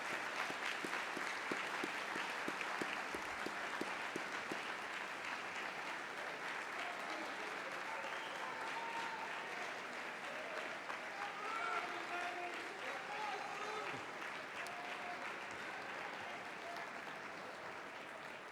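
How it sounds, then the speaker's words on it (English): Graduates applauding at a university commencement ceremony, a broad, steady roar of many hands clapping in a large hall, somewhat distant, holding evenly and fading slightly toward the end. "I would ask our graduates to please stand and offer a round of applause to all the loved ones who are here with you today"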